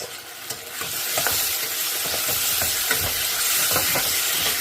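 Masoor dal stirred in a hot frying pan, a steady loud sizzle and hiss with scraping strokes of the spoon repeating every half second or so, close and continuous with no voices.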